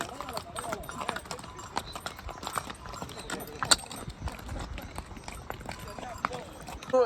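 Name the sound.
horse hooves clip-clopping on a ride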